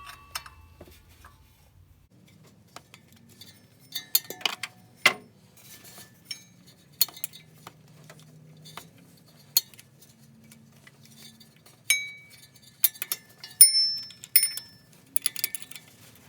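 Fan shroud bolts come out of a 1992 Ford F150. Sparse metallic clinks and ticks of tools and loose bolts sound close against near silence, with a brief cluster of sharper taps toward the end.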